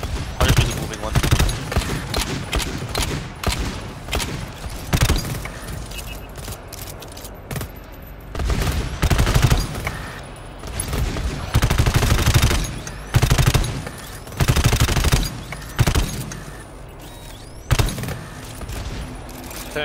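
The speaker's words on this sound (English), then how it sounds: "I'm just gonna shoot them anyway." Rapid bursts of automatic gunfire blast away at enemies in the co-op shooter GTFO, loud clattering volleys coming in repeated spurts separated by short pauses, with players talking in between.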